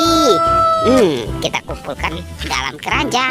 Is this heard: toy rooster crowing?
yes